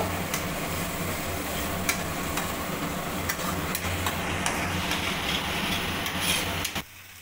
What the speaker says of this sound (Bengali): বেসনটাও মশলার সাথে ভালোভাবে কষিয়ে নেব